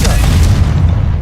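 Confringo spell blast in Hogwarts Legacy, a loud, dense booming burst that fills the whole short moment with rumbling low-end impact.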